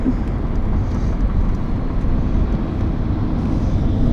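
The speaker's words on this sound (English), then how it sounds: "See, you got the glass packs on it? Yeah, you can hear it." An old-school car fitted with glass pack mufflers drives past with a deep, steady exhaust rumble, loud and close throughout.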